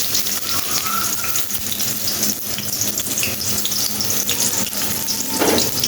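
Chopped onion frying in hot oil for a Bangladeshi kochur loti (taro stolon) dish, giving a steady, close, full sizzling hiss that runs without a break.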